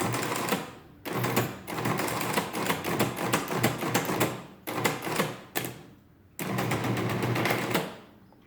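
A pre-1940 Friden Model S mechanical calculator in a green case runs after repair, giving dense, loud mechanical clattering and whirring in several bursts separated by brief pauses, with no talk.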